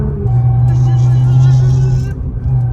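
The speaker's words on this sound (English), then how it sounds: "Gearbox sounds so good." A loud Nissan R35 GT-R engine and gearbox drone steadily in snow with a strong low hum and a higher whining tone, the pitch holding then dipping slightly as it eases off.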